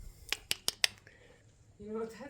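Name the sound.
pig rubbing its nose on a door window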